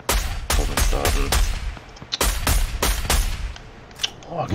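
Rapid bursts of loud gunfire in the video game Fortnite crack in quick succession, some clustered like automatic fire, with short gaps and sharp echoing reports throughout.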